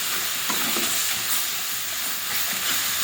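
A turmeric spice paste is sautéed in a pan for a village-style fish dish. It gives a loud, continuous hiss of frying with light stirring scrapes running throughout.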